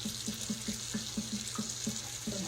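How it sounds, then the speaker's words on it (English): Cold water runs steadily from a tap into a sink while peas are being blanched, a constant splashing hiss with a soft rhythmic burble underneath, close and moderately quiet, no voices. "So I'm putting all cold water in there."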